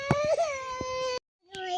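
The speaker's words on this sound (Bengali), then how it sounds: "কান্দা শুরু হয়ে গেল" A young child crying in sustained wailing bursts at close range, breaking off for a moment before starting again.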